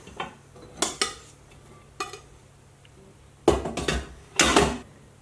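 Cooked rice is scooped out of an Instant Pot with scattered clanks and scrapes of a utensil against the metal inner pot, a few sharp knocks in a quiet room, with no voices.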